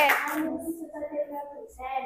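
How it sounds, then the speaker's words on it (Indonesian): A classroom of children claps for a student group during a lesson on food chains, a short burst of applause at the start fading as a teacher's voice talks over it. "Oke, tepuk tangan buat kelompok 1,"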